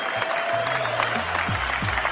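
An audience claps under a talk-show discussion, a brief burst of scattered handclaps at moderate volume mixed with low voiced sounds.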